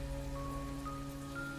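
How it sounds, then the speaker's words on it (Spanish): Heavy rain as a sound effect gives a dense, continuous hiss at moderate volume, with faint steady tones running underneath. "Ese viernes llovía intensamente."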